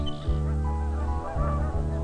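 Geese returning north honk loudly and repeatedly, several nasal calls overlapping in an uneven rhythm, close and clear with no talk.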